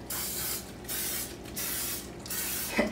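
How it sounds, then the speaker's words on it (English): Cooking spray hisses from a can in four short bursts onto a muffin tin, close by, ending with a light clink. "so we're just going to spray our muffin tin."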